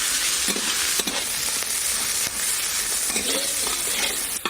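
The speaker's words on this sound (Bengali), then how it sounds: "টমেটো আর মটরশুঁটি দেওয়ার পর খুব বেশিক্ষণ নাড়বো না, তাহলে টমেটোগুলো গলে যাবে।" Tomatoes and peas sizzle in a pan with carrots, stirred with a spatula that scrapes and taps a few times over a continuous loud frying hiss.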